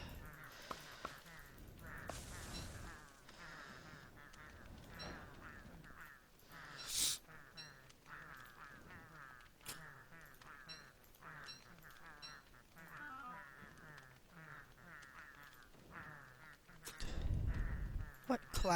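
Honking, quacking waterfowl-like bird calls from the video game Don't Starve, repeated in bursts over game sound effects, with talking heard at times.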